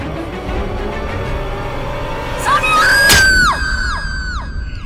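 A woman's loud, high scream rises and falls in long wails, cutting through a crowded, noisy background in a dramatized scene with a bang-like hit partway through.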